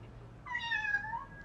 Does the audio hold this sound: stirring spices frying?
no